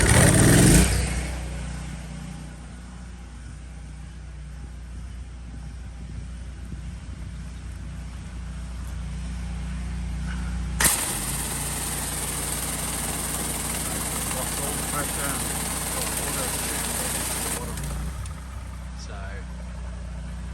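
A pressure washer machine switches on at close range and runs with a steady, loud mechanical drone and broadband hiss that holds for several seconds before cutting down, with brief talk at the start.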